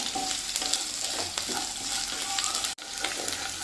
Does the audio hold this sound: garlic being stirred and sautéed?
yes